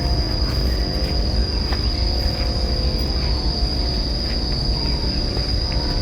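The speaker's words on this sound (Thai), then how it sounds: "เสียงเหมือนจิ้งหรีดปะหรือว่ายังอื่น" A steady, high-pitched insect trill runs without a break over a low, rumbling background hum.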